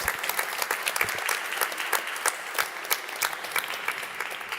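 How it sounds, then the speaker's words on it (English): Warm audience applause at a public museum event in Berlin, a sustained dense patter of many hands with distinct individual claps popping through, steady and fairly close throughout. "a warm applause for all of you"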